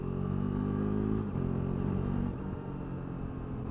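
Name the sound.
KTM RC 390 motorcycle with Akrapovic exhaust revving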